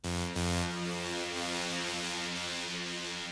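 A bright, buzzy software synthesizer preset with rich harmonics holds steady, briefly retriggered near the start, then sustains evenly at a moderate level.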